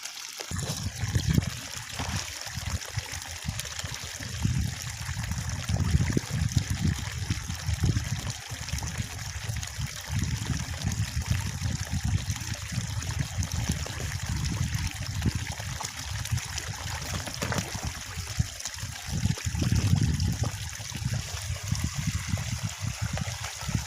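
Water trickles and splashes steadily over a small fall at the spot where a woven fish trap is set in rice-field water, a continuous close babble with no voices.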